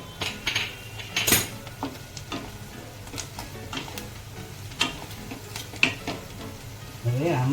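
Food frying in a pan is stirred with a utensil, giving irregular metallic clinks and scrapes over a soft, ongoing sizzle, with a thicker burst of noise at the very end.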